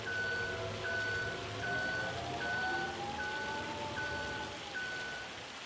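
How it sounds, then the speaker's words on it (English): Hail falls in a logging roleplay video game, a constant hissing patter under the repeated reversing beeps of a vehicle and a low engine hum. "sometimes when it's hailing for such a long time, it actually builds up on the ground"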